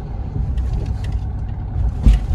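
A Maruti Swift with a manual gearbox pulling under a hard press of the throttle: a low, steady engine drone close by, with a brief louder surge near the end and no talk.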